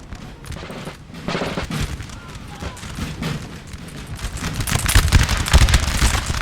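Musket volleys in the Napoleonic battle game Napoleon: Total War as Russian troops open fire, dense crackling fusillade of many shots growing louder toward the end, with someone talking over it.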